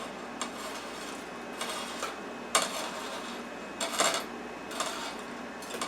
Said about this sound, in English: Alright, now we're going to add our bacon.